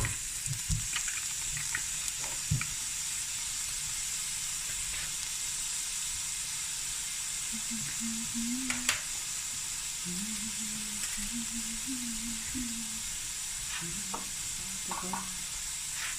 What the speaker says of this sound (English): so we're gonna let this fry